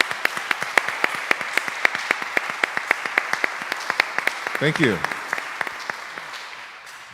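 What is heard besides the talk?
audience applause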